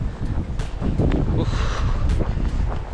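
Strong gusting wind blows through a Norwegian snowstorm, a loud, rough roar that buffets the microphone throughout, with no talking.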